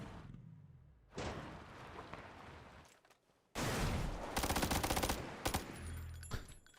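Submachine gun fire in PUBG rattles in fast, loud bursts, first a short spray, then after a brief lull a longer, sustained volley of rapid close shots.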